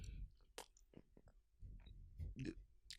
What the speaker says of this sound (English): Oh, is that me while I'm eating the sausage right now?